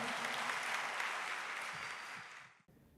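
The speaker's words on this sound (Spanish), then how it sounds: "Dele fuerte el aplauso al Rey de nuestra vida" A church congregation at a Sunday service applauds in a dense, sustained burst of clapping that fades and cuts off after about two and a half seconds.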